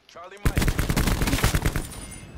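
Hip-fire gunshots in Call of Duty Black Ops 4: a rapid, loud burst of automatic fire that rattles steadily for about two seconds right after a brief voice.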